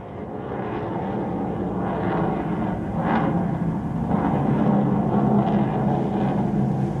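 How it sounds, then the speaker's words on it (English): A MiG-29K fighter jet engine roars steadily on takeoff from the aircraft carrier Vikrant's flight deck, a deep broadband rumble that swells slightly as it goes on, with no voices. "The MiG-29K surges forward, racing just above the flight deck of Vikrant and shoots back into the sky."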